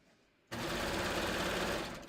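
A three-thread serger overlocker stitches a narrow seam, starting abruptly and running as a steady, loud, fast mechanical whir for about a second and a half before easing off slightly.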